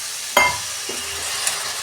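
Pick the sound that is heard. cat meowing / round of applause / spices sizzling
spices sizzling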